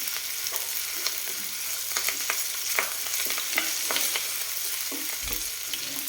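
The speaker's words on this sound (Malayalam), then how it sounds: "ഇതിലേക്ക് കറിവേപ്പില ഇട്ട് കൊടുക്കാം. നന്നായിട്ടൊന്ന് ഇളക്കി കൊടുക്കാം." Ginger, onion and curry leaves sizzle in hot oil in a pan for a Kerala-style vanpayar thoran, with a steady close frying hiss and light scraping taps of a spoon stirring, no talking.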